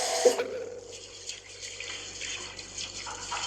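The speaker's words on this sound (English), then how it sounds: "you will want to wash and rinse the rice like this" Uncooked rice is rinsed in a pot of water, a brief splash and pour at the start followed by soft, steady sloshing and swishing as the grains are stirred, quiet and close without talk.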